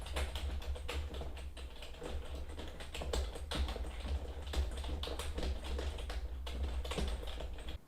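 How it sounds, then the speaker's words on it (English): Typing on a computer keyboard picked up by a USB microphone placed some distance away, a steady stream of faint, rapid clicks. "So there's a demo of how much noise this mic picks up from the keyboard"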